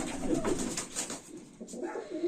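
Baku fighting pigeons coo close by in a soft, steady run of low throaty calls.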